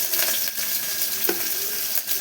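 Curry leaves and tomatoes frying in hot oil in a pan, giving a steady, close, fairly loud sizzle with no voices over it.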